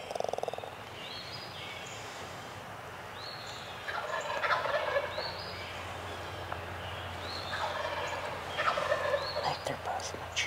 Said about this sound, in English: This one sounds like an older bird on the left. It's got that growl for a gobble.